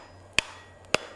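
Two sharp, ringing hammer blows on hot metal during blacksmith forging of a garden hose hook, struck about half a second apart at close range, with a quiet background hum between them.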